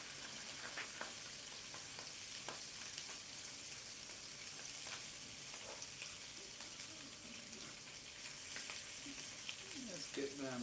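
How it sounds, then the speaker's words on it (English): Jalapenos sizzling in butter in a pan for a breakfast sandwich, a soft steady frying hiss with occasional clinks of a utensil and brief running water. "I'm gonna have to watch the jalapenos a little bit more carefully using butter because I don't want to burn the butter."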